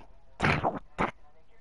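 A person imitates the squawky, garbled voice of Donald Duck in two short bursts, one longer and one brief, up close with no other talk.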